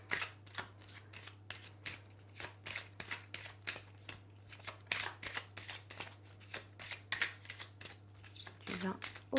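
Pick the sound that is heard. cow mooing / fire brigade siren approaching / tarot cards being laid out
tarot cards being laid out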